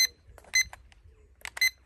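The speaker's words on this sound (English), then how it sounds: "It's a new timer I've just bought. I certainly hear it, don't you?" A newly bought kitchen-style timer sounds its alarm up close, two quick bursts of sharp electronic ringing beeps separated by a short gap, loud and without talk.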